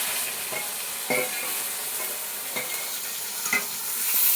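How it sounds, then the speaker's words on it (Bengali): Onions frying in a pan with whole spices such as cinnamon, cardamom, cloves, bay leaf and dried chilli make a constant close sizzle with a few stirring scrapes, no talk. "লাল লাল করে ভাজা হবে।"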